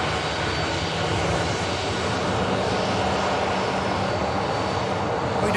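An airliner arriving to land at an airport roars continuously nearby, a loud, steady broadband engine rush without any voices.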